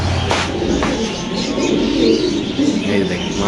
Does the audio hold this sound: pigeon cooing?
yes